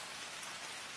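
Steady rain pours down across a surface, a dense continuous hiss of drops with no talk and no thunder.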